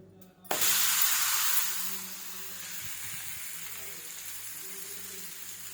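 A sudden burst of hissing sizzle as bottle gourd flatbread hits a hot oiled iron griddle, then a steady, gradually softening fry.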